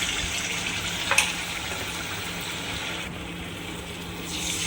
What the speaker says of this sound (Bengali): তেল গরম করে নিয়েছি, নারকেলটা করে তেলে ছেড়ে দেব।